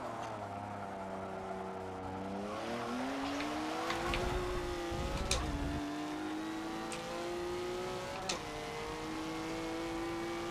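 A V6 race car engine in Forza 7 revs steadily and shifts pitch through gears, with brief tire squeals and rumbling bursts, loud and close, no talking.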